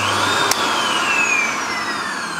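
A SEBO Felix upright vacuum cleaner runs with a loud, steady motor whine close by, joined by a single sharp click partway through and a slowly falling pitch as the motor settles, with no voices.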